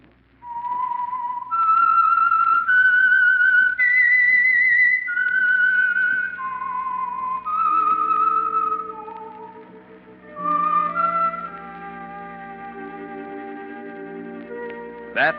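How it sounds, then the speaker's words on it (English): A clear, echoing whistled melody, the theme signal of the radio program The Whistler, rises and falls over several notes, followed by a lower orchestral chord swelling underneath. "That whistle is your signal for the Signal Oil program"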